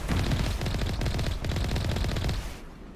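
Vehicle cannon fire in the video game Mass Effect Legendary, a rapid, continuous stream of punchy shots with a steady rhythm, loud and close for nearly three seconds before cutting off.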